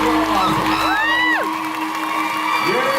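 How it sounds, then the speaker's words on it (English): A crowd at a fan convention panel cheers and whoops amid applause, with high shouts and whistles sliding up and down over a steady wash of clapping. "ladies and gentlemen, round of applause"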